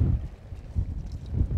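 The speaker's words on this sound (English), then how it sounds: "We're drifting down with this wind, this heavy wind." Low, gusty wind rumble buffets the microphone in uneven surges on open water from a drifting fishing boat, with a faint watery background and no voices.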